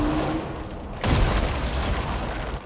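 A rocket launcher fires in the game Control as a single heavy boom about a second in, followed by rumbling noise within a dense, busy mix of combat sound.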